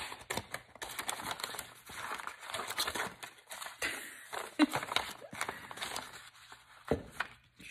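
Scissors snip through paper scraps being cut into butterfly shapes, a run of quick crisp cuts and rustling close up, faint and irregular, with some quiet talk in between.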